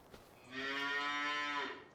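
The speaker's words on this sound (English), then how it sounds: "Cows in here are doing well." Cattle low in the farming game Farming Simulator 25, one long, steady, fairly loud moo that swells in and fades out, heard alone against quiet background.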